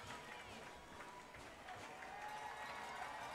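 A high school football crowd in Fairfield, centred on the student section, fills a stadium with faint, distant cheering and clapping that holds steady throughout.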